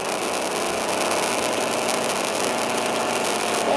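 A car's engine drones steadily in the driving game Car Seller Simulator, a continuous mid-pitched hum with slight vibration, loud and close throughout with no talking.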